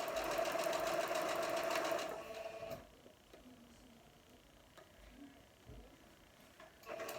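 A sewing machine stitches a seam on a Halloween quilt block, running fast and steady for about two seconds, then stopping, leaving faint handling noises and a brief restart at the end.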